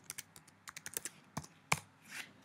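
Fingers tap out a short search entry on a computer keyboard, a quick run of about a dozen crisp, close keystrokes with small pauses, ending in one firmer key press.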